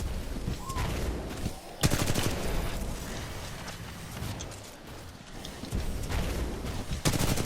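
The R-201 assault rifle fires repeated automatic bursts in the Titanfall 2 video game, loud and continuous, broken by brief pauses between volleys.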